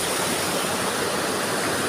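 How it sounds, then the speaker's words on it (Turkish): A small waterfall near Kaklık Cave pours in a steady, broadband rush of falling water, close and continuous with no voices over it. "Ee, ha buradan da şelale var. Ama bu da küçük şelale."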